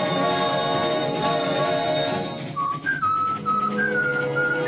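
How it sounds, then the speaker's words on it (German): Someone whistles a melody nearby aboard the Salzkammergut local railway, clear and bright, with a rumbling background that drops away partway through. "pfeifen Sie weiter, lieber Honeck."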